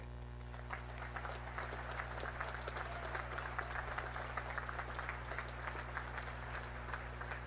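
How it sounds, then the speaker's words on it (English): An audience at a Naval Academy commencement applauds the graduates with steady, even clapping that sounds distant and fairly quiet over a constant low hum. "Please join me in recognizing and applauding these distinguished graduates."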